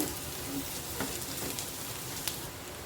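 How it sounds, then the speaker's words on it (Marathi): Onions and cashews frying together in a pan, a steady soft sizzle with faint crackles and occasional stirring, heard alone without talk. "कांद्याबरोबर थोडे काजू पण टाकते ते पण आपले गुलाबी होतील छान कांद्याबरोबर भाजले जातील"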